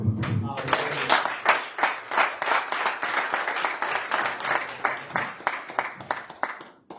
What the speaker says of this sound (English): Can we give God a hand clap?